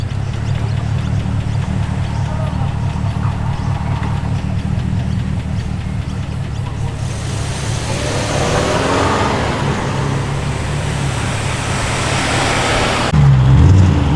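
Chevrolet Caprice V8 burbles at a car show, a low bassy idle rumble running steadily throughout with a louder swell of engine and passing traffic noise midway.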